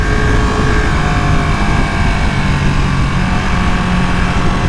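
A 2020 Ducati Panigale V2 on the road at about 55 mph in sixth gear, pulling sluggishly under throttle: a steady, loud engine drone blended with heavy wind rush that stays constant throughout.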